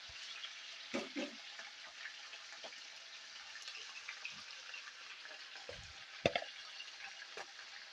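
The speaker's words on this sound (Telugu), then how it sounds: "ఆయిల్ అయితే హీట్ ఎక్కిందండి ఇప్పుడు ఫస్ట్ ఇందులో నేను చికెన్ అయితే వేసుకుంటున్నాను" Chicken frying in hot oil gives a soft, steady sizzle throughout, with a few louder splutters and pan knocks as pieces are added, close and faint, with no talking.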